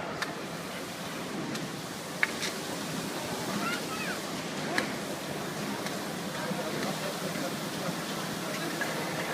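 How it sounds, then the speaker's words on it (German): A police water cannon at a Dortmund police open day fires a high-pressure full jet onto a water surface, producing a steady, loud rushing hiss with splashing, while someone talks over it. "Er wird jetzt 8 bar eingeben und mit 8 bar Vollstrahl Wasserstöße auf die Wasserfläche abgeben."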